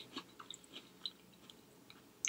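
Crunchy bites and chewing of a Tasty Valley mini creme cookie, a few soft crisp crunches spread across a quiet moment, close and faint with no talking.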